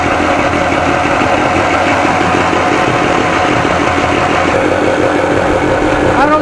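A Johnson 40 hp outboard motor runs loud and close at steady speed while it warms up during a thermostat test, giving an unbroken mechanical drone with no talking.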